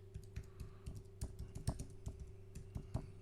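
Close, steady typing on a computer keyboard, a quick uneven run of key clicks over a low electrical hum, with no talking.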